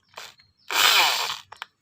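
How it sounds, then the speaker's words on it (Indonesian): An electric drill spins briefly to lap an engine valve: a short whirr, then a louder grinding burst lasting under a second, then two quick blips, all close and with no talking. "Kita menggunakan bor."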